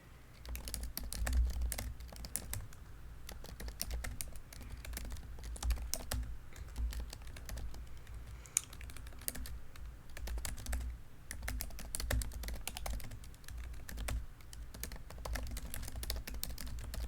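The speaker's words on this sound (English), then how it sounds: "I like how I'm just typing in the chat right now." Fingernails tap steadily on a computer keyboard while someone types in a chat. The clicks come in quick irregular bursts, close and fairly quiet, with no voice over them.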